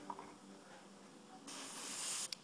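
Airbrush spraying Mr. Hobbies paint onto a Bolt Action Hetzer tank model: a close, steady hiss of air and paint that starts partway in and holds for under a second before cutting off, after quiet handling noises.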